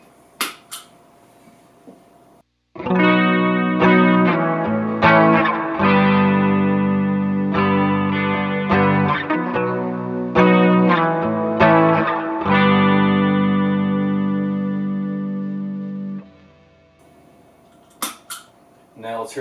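Electric guitar played through a Walrus Audio Julia chorus pedal on a pedalboard, heard as loud, sustained chords and note runs with a shimmering modulated wash, stopping near the end with a few faint clicks.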